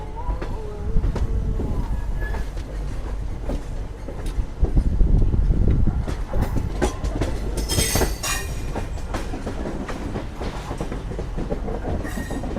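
The Krishna Express rolls out of Vijayawada Junction, wheels clattering in steady rhythm over the rails with occasional squeals and rattles, heard loud and close from inside the moving train.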